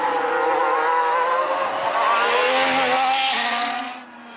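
Formula 1 race cars scream down a straight in a Lego animation, a loud, continuous high-pitched engine wail that rises in pitch and then cuts off abruptly near the end, with no voices.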